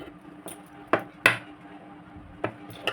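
Scissors cut through blouse fabric and stiff buckram lining, giving a few sharp, close snips spaced irregularly over a quiet room with no voices.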